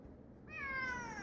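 A single short meow from a cat, rising then trailing off, quiet and close.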